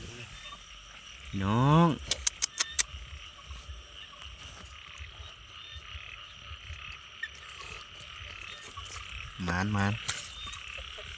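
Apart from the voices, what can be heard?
male frogs croaking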